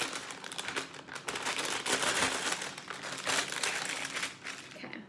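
A knife slices open a plastic bag holding salmon, giving busy crinkling and rustling of plastic close up, with uneven scraping bursts lasting the whole stretch.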